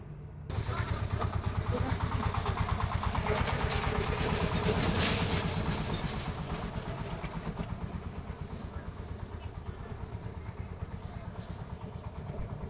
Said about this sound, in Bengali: নদীর পাড়ে যেমন বাতাস তেমনি ট্রলারের শব্দ খুবই ভালো লাগে